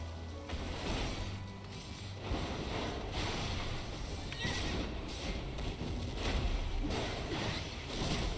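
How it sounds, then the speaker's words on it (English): A Kelpie horse mount from Final Fantasy XIV, a mythical underwater horse, neighs and whinnies amid a steady game soundscape, with clip-clop hooves and a continuous layered background throughout. "It is a Kelpie. Those are the underwater horses of myth."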